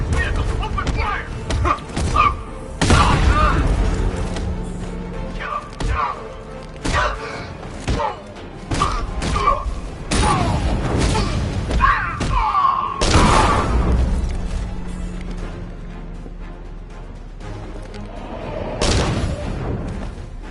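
Gunfire and explosions in the Batman Arkham Knight video game: heavy thuds and booming blasts scattered through the passage, mixed with bursts of shots and voices speaking.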